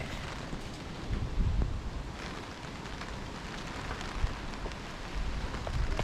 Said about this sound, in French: c'est à ce moment-là qu'il commence à pleuvoir bien fort